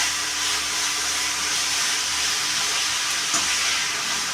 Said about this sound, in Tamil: நெக்ஸ்ட்டு கேரட்டு, பீன்ஸ் எல்லாத்தையும் போட்டு ஒரு 2 நிமிஷம் வதக்கிக்கும்.